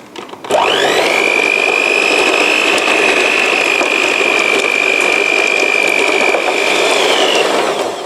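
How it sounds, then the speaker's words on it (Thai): An electric mixer starts up and runs steadily and loudly with a constant high motor whine as it beats butter for chocolate cranberry cookies. "เราจะเริ่มตีเนยลงไปก่อน พอให้เนย เริ่ม คลายตัวออกจากกันนะคะแล้วค่อยเติมน้ำตาลลงไป"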